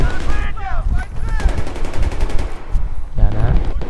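Rapid bursts of Battlefield 3 multiplayer gunfire crackle continuously and loud, with a voice talking over the shots.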